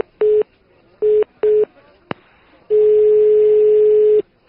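A telephone line gives three short tone beeps, then a brief click, then a long steady tone after the call is hung up before redialing. The tones are loud and close, with no voice.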